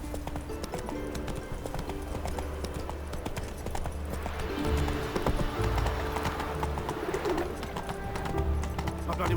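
A horse gallops in The Witcher 3, its hooves clip-clopping in a rapid, steady rhythm against faint ambient birdsong, mid-distance and moderately loud, with no talking.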